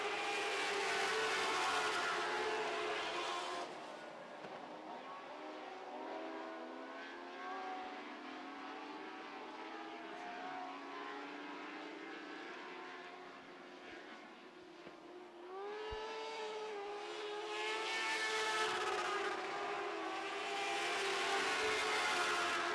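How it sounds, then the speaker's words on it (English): Lightning sprint cars race on a dirt oval during heat races, with engines roaring past at a distance, fading and then returning as another car revs high and stutters against its electronic rev limiter. "you can hear that engine missing just a little bit. It's actually not missing, it's a rev limiter."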